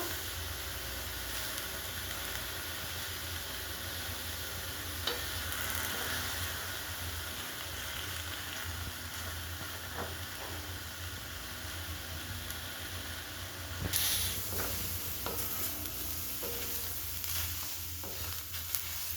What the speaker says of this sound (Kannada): ಇದನ್ನು ಎಣ್ಣೆ ಹಾಕಬಾರ್ದು, ಹಾಗೆ ಹುರ್ಕೋಬೇಕು.